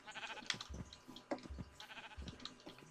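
Sheep in the video game Minecraft bleat several times in a row, each short wavering call close and fairly quiet, with brief gaps between them.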